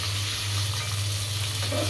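Food fries in a pan as it is stirred and turned, giving a steady, close, continuous sizzle with a low hum underneath.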